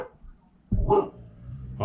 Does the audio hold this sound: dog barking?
yes